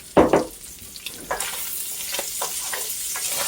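Food for biscuits and gravy fries and browns in a pan with a steady background sizzle, punctuated by several close scraping stirs and clinks, one sharper knock near the start, with no talking.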